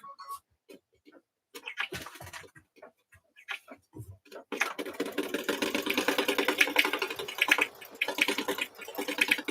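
An embroidery machine stitches a card in the hoop. After a few scattered quiet clicks and handling noises, it starts a steady, fast mechanical ticking rhythm that continues to the end.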